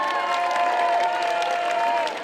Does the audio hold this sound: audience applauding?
yes